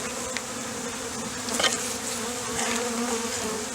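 A dense, steady buzz of many honey bees hums close by during installation of package bees into hives, with a few brief sharper bursts of wingbeats rising over the drone.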